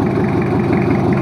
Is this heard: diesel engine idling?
yes